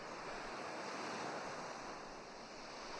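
Ocean waves washing in a steady, continuous surf across the vast blue-green sea, with a faint breeze mixed in, heard alone without any voices.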